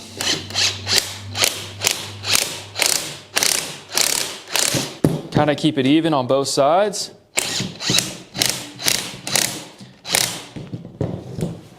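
Rapid ratchet wrench clicks in repeated bursts, close and loud, tightening a coil spring compressor, with someone speaking briefly partway through.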